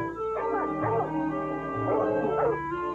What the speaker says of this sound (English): They could hear the hounds out in the desert and tell by their voices how the hunt was going.